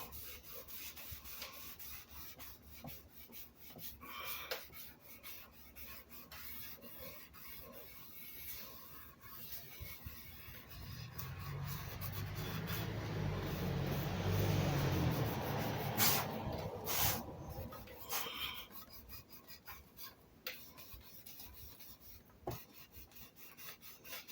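Red dye being rubbed by hand into the wooden body of a Les Paul guitar makes a quiet, continuous rasping friction that swells louder and faster midway through, with a few sharper scuffs near the end.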